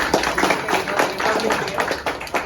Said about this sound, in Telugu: మీకు మీరు గా క్లాప్స్ ఇచ్చుకోండి